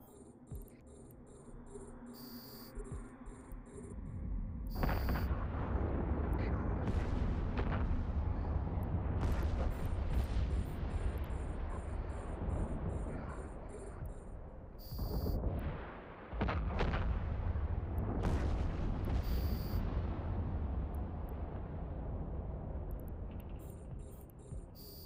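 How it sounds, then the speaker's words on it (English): Missiles launching in the space game EVE Online, a dense continuous barrage of booming, crackling blasts with sharp bursts layered over a constant low rumble, loud and sustained with no talking. "as I send missiles everywhere"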